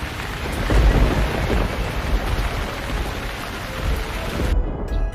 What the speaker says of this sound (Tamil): அப்படியே ஒரு நாள் நல்ல மழை பெஞ்சது.